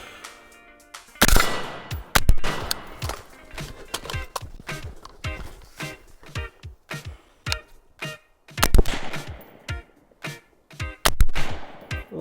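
Rifle shots from a shooting run on a sunny outdoor range, a string of sharp, loud reports at an irregular rhythm, some in quick pairs, with short echoing tails between them.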